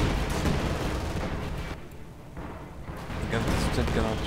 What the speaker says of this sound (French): Un petit soutien de canon du char.